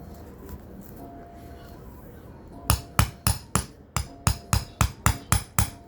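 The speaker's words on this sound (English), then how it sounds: "Hammer that thing." After a quiet stretch with low talk, about a dozen sharp hammer blows, enlarging a hole in a summer hat, ring out in an even, quick rhythm, close and loud.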